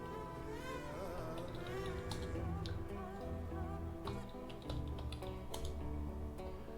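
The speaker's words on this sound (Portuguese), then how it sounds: "Então eu vou digitar o meu aqui rapidinho." Keys clatter quickly on a computer keyboard as a username and password are entered, a run of light, close taps over a steady background hum.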